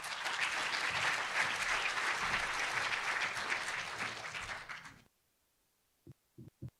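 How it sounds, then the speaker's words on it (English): Audience at a South Jersey nonprofit summit breaks into sustained, dense applause that fills the room for about five seconds, then stops abruptly, leaving near silence broken by a few short thumps. "Round of applause for you all."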